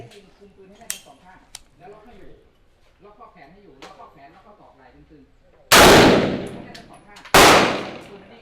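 Two loud, close rifle shots from a SIG MCX chambered in .300 Blackout crack about a second and a half apart, each with a rumbling tail, after a stretch of someone talking.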